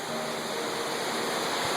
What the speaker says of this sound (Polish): ale ocean jest trochę głośny